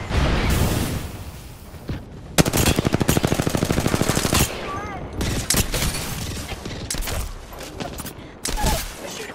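Rapid automatic gunfire in Apex Legends, a dense burst of evenly spaced shots roughly two seconds long among scattered louder single reports and game noise, with voices talking over parts of it.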